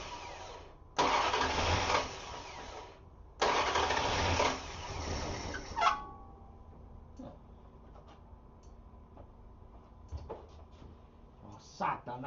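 A cold Dodge Coronet engine cranks in two long bursts of starter whir. It catches on the second try and then settles to a low, steady idle with small clicks and knocks.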